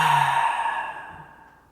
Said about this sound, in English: take a really deep collective breath in, fill up the belly